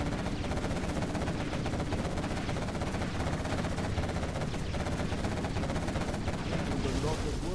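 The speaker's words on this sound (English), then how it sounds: "we're going to use the quad cannon to destroy these infantry and destroy the building itself" Rapid automatic cannon fire from a quad cannon in Command & Conquer Generals, a dense continuous rattle of shots running throughout and mixed with battle noise.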